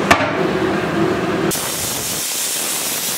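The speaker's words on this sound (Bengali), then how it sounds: "এইদিকে আমাদের খিচুড়ি হচ্ছে, ওই জন্য আমাদের এখানে এই আওয়াজটাও হচ্ছে।" Khichuri cooking on a stove gives off a loud, steady steam hiss close by, cutting abruptly to a softer, airier hiss partway through.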